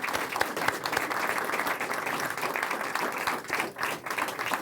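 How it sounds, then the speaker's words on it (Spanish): A live audience gives steady, sustained applause for Patricia Venegas, dense clapping filling the room throughout with no talking. "Le damos un aplauso a la Pati, ¿no?"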